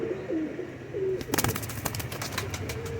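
Soft low cooing from a pair of golden pigeons, repeated a few times, joined midway by a burst of flapping wings and scuffling nearby.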